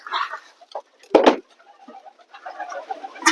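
Pigeons kept in a home loft, including a separated single hen, give soft cooing and clucking calls in short bursts, with a louder flurry of fluttering or scuffling midway and more calls toward the end.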